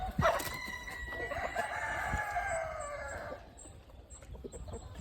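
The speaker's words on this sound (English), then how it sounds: "you can see the chickens are going right to it, scratching through it" Chickens call close by, with a drawn-out rooster crow and clucks, then quieter chirps and rustling.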